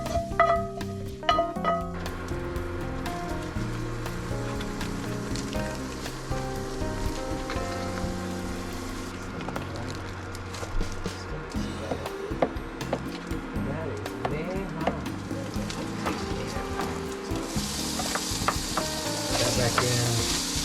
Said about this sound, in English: put some butter on the pan and then put the fries in so they can kind of crisp up